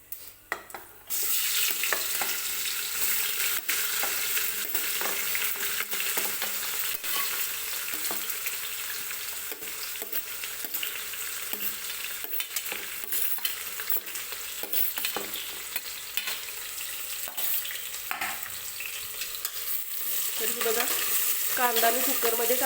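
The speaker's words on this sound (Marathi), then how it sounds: "कांदा व्यवस्थित परतून घ्यायचा आहे तेलामध्ये" Steady, loud sizzling of onion frying in oil in a pressure cooker, with occasional stirring clinks, continuing throughout with no talking.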